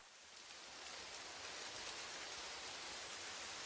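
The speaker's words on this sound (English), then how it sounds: "It detects what's being hit by the rain, and we hear sound related to it." Steady video-game rain falling on leaves and water, a dense, even hiss of drops that swells slightly and continues unbroken, close and soft, with no voices.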